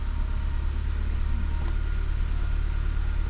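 Steady low idle hum of a Honda Accord with a CVT held in reverse gear, a constant close drone with no variation and no voices.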